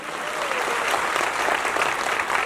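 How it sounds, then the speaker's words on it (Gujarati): Audience applause at a devotional adornment workshop event, a full burst of clapping from a crowd that swells and holds steady, fairly close and with no talking over it. "એકવાર એમના માટે જોરદાર તાળીઓ થઈ જાય"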